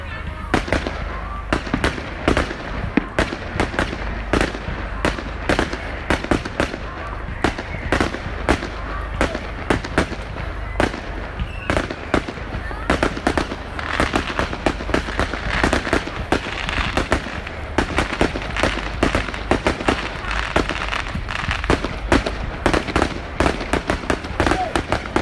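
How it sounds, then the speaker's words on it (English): A fireworks display at Manor Fields on Bonfire Night sets off a long, continuous barrage of sharp bangs and crackling bursts at an irregular rapid rhythm, some near and loud, with people talking between and over them. "So expect some loud bangs along the way, and yeah, it's going to be a crazy night"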